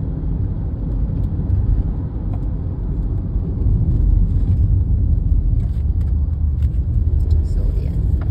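Car engine idling with a steady low rumble that holds constant throughout, loud and close, while a person talks over it.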